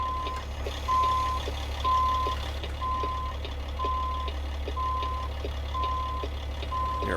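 A truck backing a trailer in American Truck Simulator gives steady reversing beeps, evenly spaced about once per second, over a constant low engine idle rumble, with no one talking.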